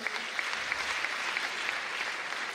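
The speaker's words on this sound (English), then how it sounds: "Another round of applause, ladies and gentlemen." Steady applause from a crowd after a cultural group performance at a STEM project launch, dense clapping throughout at a moderate distance with no pauses.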